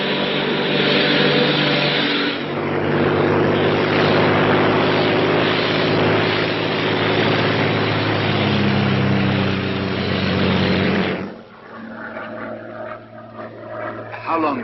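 A Royal Air Force propeller plane drones steadily in flight, a loud continuous engine hum with a sustained low tone, easing off near the end as voices start to speak.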